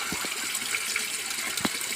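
During a water change for indoor pond fish, water runs steadily from a hose or tap, a continuous close gushing with a few brief splashes and no talk.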